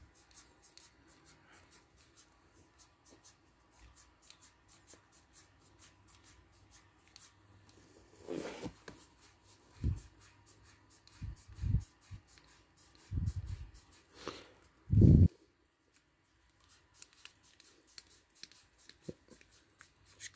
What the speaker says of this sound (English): I'm using scissors, so it's gonna take a while to get through the rope